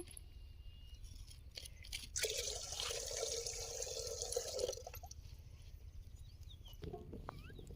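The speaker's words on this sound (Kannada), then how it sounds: "ಪಾತ್ರೆಗೆ ನೀರು ಹಾಕ್ತಾ ಇದ್ದೀನಿ" Water poured into a cooking pot while preparing ragi mudde, a steady splashing pour lasting about two and a half seconds at close range, with quieter kitchen handling before and after.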